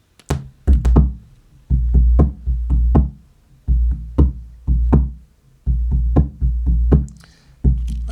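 A freely played recorded percussion line of dry, knocking hits lands in loose clusters and irregular rhythm, close and punchy with little ringing, with no voices.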